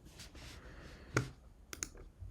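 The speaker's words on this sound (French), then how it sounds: "Je vais donc ici sur ce dossier faire commande I" A Mac keyboard shortcut, Command-I, being pressed: a few sharp, close keyboard clicks, one distinct tap followed by a quick double tap, over a quiet room hush.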